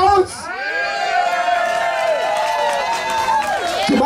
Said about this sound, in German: Freunde, bekommt dieser Kevin Heinzelmann mal einen richtig erotischen Applaus?